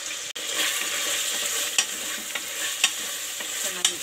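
Chicken is stirred and mixed with salt in a pan, with a soft sizzle running throughout and a few sharp scrapes and clicks of the utensil against the pan, close and alone with no talking.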